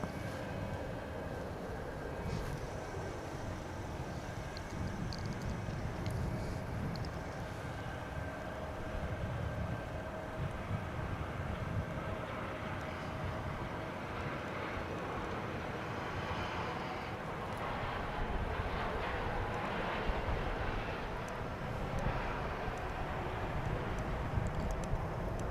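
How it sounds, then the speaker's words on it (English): Boeing 787-9 Dreamliner arriving on the runway at DFW International Airport, a distant steady jet roar that swells gradually over the open-air background with no talking. "A Dreamliner, a 787-9. And it'll be our next arrival here"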